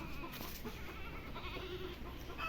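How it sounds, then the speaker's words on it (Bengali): Frightened goats bleat on a farm during hot weather, their calls rising over a steady outdoor background with no talking. "ভয় পাচ্ছে ছাগলগুলো"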